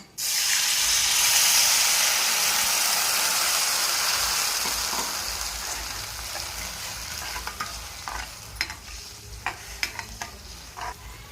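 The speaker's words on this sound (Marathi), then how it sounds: "आता त्यात आपण 1 कपभर पाणी ओतूया." A loud burst of sizzling as a cup of water hits hot tempering oil for dhokla, the hiss gradually easing over several seconds, followed by a few clinks of a spoon stirring.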